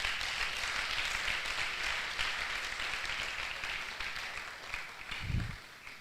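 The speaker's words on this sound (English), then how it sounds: "Round of applause, please" Applause fills a valedictory ceremony hall honouring a retiring medical professor in Nigeria, steady and moderately distant across the whole stretch, with a brief low thump near the end.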